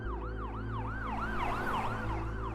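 An ambulance siren wails continuously in a rising and falling yelp pattern over a steady engine rumble, fairly loud throughout with no voices.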